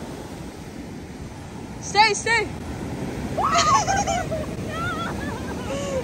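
Cold ocean waves wash up on Santa Monica beach in a constant broad hiss and surge, with geese honking nearby and people talking over it.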